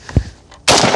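An AK rifle shot tears into a tree stump outdoors, a faint thump early followed by a sudden loud, sharp blast and its sustained roar to the end, close and unvoiced.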